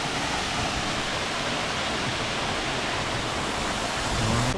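A waterfall at a park-like spot in Pocheon, South Korea, gives a steady, loud broadband rush of falling water that fills the whole clip, with no voices over it.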